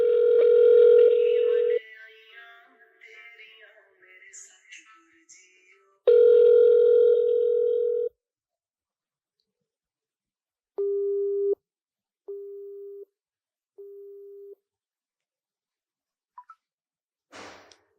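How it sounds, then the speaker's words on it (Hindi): Telephone tones during a call that gets cut off. A steady dial tone is heard, then quieter murmurs, the tone again, and finally three short evenly spaced beeps of a busy signal followed by near silence. "फोन कट्टिया गया, एक बार दोबारा ट्राई करते हैं"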